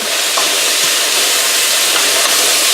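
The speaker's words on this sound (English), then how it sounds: "as it's sizzling" Loud, continuous hiss of white bean chicken chili sizzling hard in a pot over medium heat, with faint crackles and pops, and no voices.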